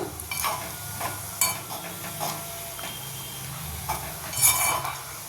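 Orange peel boiling in face oil in a pan is stirred, giving a steady low sizzle and bubbling with scattered scraping and clinking taps of the spoon, with no talking.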